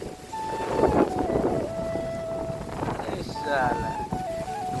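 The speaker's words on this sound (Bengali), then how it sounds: "বাতাসটা অস্থির" Strong wind rumbles and buffets continuously during rain in a village by a pond, with people talking over it and a faint tonal whine coming and going.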